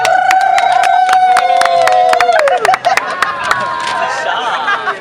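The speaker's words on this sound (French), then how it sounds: "On applaudit." A crowd at a fan meetup in Paris cheers and claps, with sharp scattered handclaps beneath a loud, sustained high-pitched voice or whistle and excited chatter around it.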